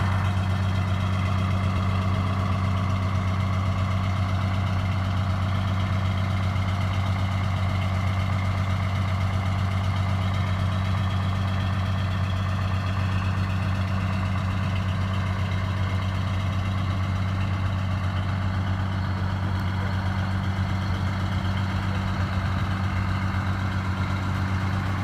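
Buses idle together at a bus museum meetup before heading out in a caravan, a steady, loud low diesel rumble that holds unchanged throughout.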